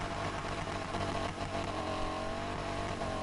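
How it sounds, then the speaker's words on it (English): McLaren P1 race cars approach in Need for Speed Heat, a steady droning engine roar that holds loud and unbroken, with no talk over it. "I can hear those McLaren P1s coming up on me again."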